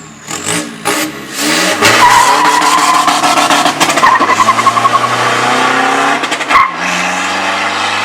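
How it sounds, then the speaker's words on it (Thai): A 1.9 car with a stage 3 Power X ECU remap accelerates hard, its engine roaring loud and close with tire squeal, then hits the rev limiter in a rapid train of sharp popping cuts before easing off. "ตัดได้ดังนะครับ อ้าวมาดูรถวิ่งดู"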